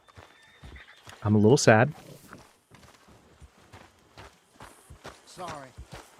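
A horse in Red Dead Redemption II snorts and whinnies loudly once, then its hooves clop at a slow walk, close by. A person speaks briefly over the steps.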